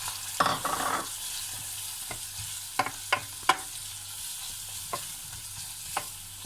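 Chili powder, mixed masala and garlic being stirred into frying onions for a baked beans chutney: a soft steady sizzle with a few sharp spoon scrapes and clicks against the pan, close and moderately quiet, no talk.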